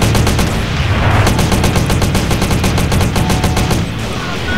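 Rapid gunfire in GTA San Andreas during a SWAT versus army deathmatch mod mission, a dense, loud, continuous volley of shots with near-constant rhythm over several seconds and no talk.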